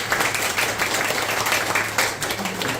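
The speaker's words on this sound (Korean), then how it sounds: "발제자분들, 박재희 시장님과 권세훈 이사님께 너무 감사드린다고 다시 한번 박수 한번 보내드립니다" An audience at a local election review meeting with residents in Daegu applauds the presenters. The clapping is continuous and moderately loud, a busy wash of hands that swells slightly near the end.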